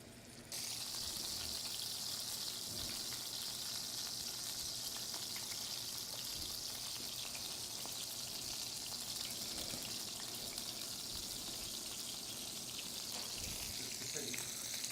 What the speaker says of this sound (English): I'm gonna fry the skin down first